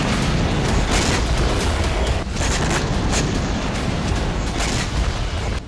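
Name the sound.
explosions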